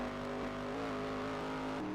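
Racing truck engines roar steadily in a truck-racing video game, a loud sustained drone with slight pitch shifts as the motors hold high revs, no talk over them.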